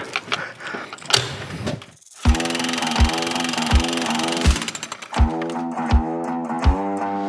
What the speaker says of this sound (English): This is a bit of a funny angle with this jackhammer